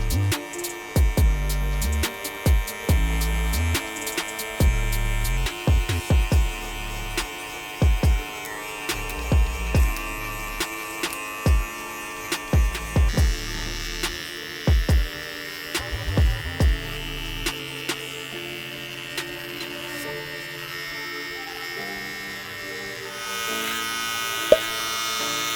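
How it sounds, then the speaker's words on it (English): An electric shaver buzzes steadily at close range while hair is blended along a guideline, its drone rising and falling in short passes against the head with a faint hum underneath. "I'm gonna use our shaver now."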